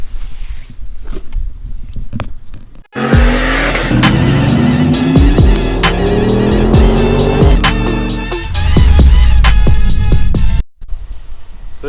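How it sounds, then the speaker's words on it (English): A car accelerates past, its engine revs rising and falling through the gears with loud, close roaring, tire noise and a few sharp clicks, then fading back to a quieter background. "I'm going to do a little bit of a drive-by kind of clip so you can hear how the car is stock"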